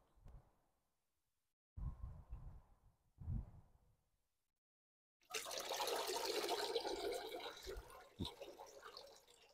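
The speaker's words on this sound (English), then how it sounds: "sometimes I do just take a break to water them." Bonsai trees are watered outdoors. A few short splashing bursts come first, then a longer steady stream of water pours and patters close by, fading out at the end.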